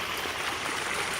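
Water pours from a perforated drainage pipe after heavy rain, a loud, steady rushing splash that continues evenly throughout with no voices.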